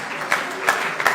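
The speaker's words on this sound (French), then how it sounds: "N'applaudissez pas, n'applaudissez pas." Steady applause from a crowd fills the short clip, with a few louder claps standing out at regular intervals.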